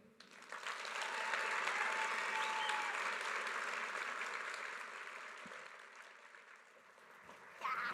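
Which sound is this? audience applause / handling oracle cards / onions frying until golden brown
audience applause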